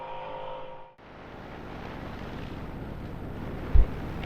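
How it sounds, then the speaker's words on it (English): Broadband wind rushes steadily across the microphone, low rumbling buffeting that swells slightly, with a brief thump near the end. "Now it's gusting."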